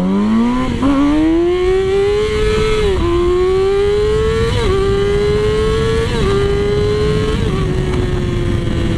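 A Yamaha R6 sport bike engine set up for wheelies revs hard and accelerates, its loud, close whine climbing steadily through several gear changes with brief dips between shifts, no voices over it.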